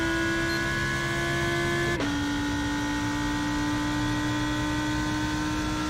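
An LMP2 prototype race car in iRacing's 24 Hours of Daytona drones loudly past, its steady engine tone dropping in pitch as it goes by, over the constant hum of the player's own car.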